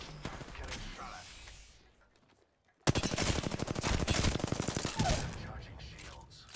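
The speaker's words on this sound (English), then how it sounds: "Getting shot at." Gunfire in Apex Legends, with a burst of rapid shots, a brief near-silent gap, then a loud sustained stream of automatic fire with voices over the action.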